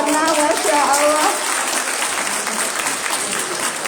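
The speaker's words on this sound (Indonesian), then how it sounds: "kita berikan aplaus untuk yang di sana" An audience at an IMSA-MISG muktamar gathering in LA claps loudly and steadily, with voices heard over the start of the applause.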